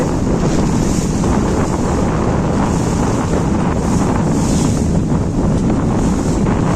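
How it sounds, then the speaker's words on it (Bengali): A motor launch crossing the middle of the Ganges at night in Kolkata, near Rabindra Setu, as a steady, loud rush of wind buffeting the microphone and churning water that never lets up. "রবীন্দ্র সেতু আমাদের লঞ্চ এগিয়ে চলেছে"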